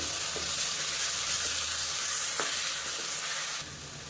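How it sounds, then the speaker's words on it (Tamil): Ginger garlic paste, onions, cinnamon and cloves being sautéed in a pan, giving a steady close sizzle with faint stirring scrapes and a few soft clinks throughout, with no talking. "இதையும் சேர்த்து நல்லா வதக்கி விட்டுக்கலாம்."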